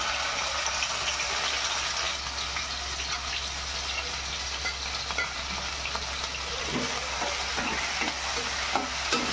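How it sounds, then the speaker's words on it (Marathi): Ginger, garlic and chili paste sputters in hot oil in a pot on the gas for a bitter gourd dish, a steady close sizzle joined by rhythmic stirring scrapes toward the end, with no talking. "तेल गरम झालंय, अद्रक, लसूण आणि मिरची याची पेस्ट टाकून घेऊ।"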